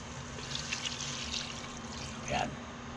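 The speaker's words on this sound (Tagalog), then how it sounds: "Lagyan natin ng tubig." Mineral water is poured into a cooking pot, a faint trickle and splash under soft talking, with a brief louder gush near the end.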